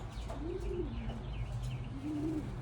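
Racing pigeons newly settled in a loft give soft, low rolling coos, two drawn-out calls a couple of seconds apart, faint and close against quiet background noise.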